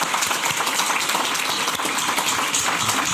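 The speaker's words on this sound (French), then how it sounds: "Donc j'applaudis Louis Bois." Dense, steady applause from a crowd at a literary gathering in Médan, continuous clapping filling the whole stretch without a break.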